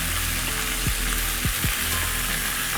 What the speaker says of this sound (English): place the ribs to the side that has meat in the bottom of the pan, so that we can sear the meat